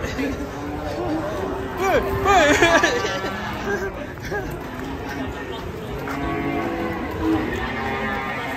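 A cow moos a couple of times nearby amid a busy outdoor scene with people chattering around it.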